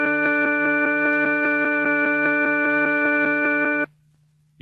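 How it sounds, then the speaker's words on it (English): A monaural organ test tone from a stereo test record holds as a steady sustained chord with clear harmonics, then cuts off abruptly into near silence. "let's find out how a correctly balanced system sounds by playing a monaural organ"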